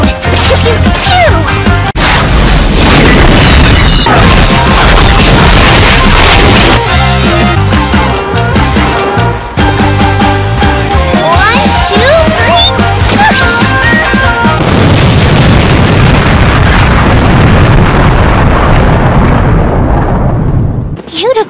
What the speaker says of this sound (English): You're just in time for the fireworks show.